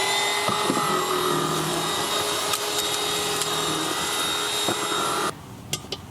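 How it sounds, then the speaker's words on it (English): A vacuum cleaner runs loud and steady close by in a van during a diesel heater fitting, cleaning around holes drilled in the floor. It stops abruptly near the end, and a few small knocks follow. "Oh, and he's going to Hoover."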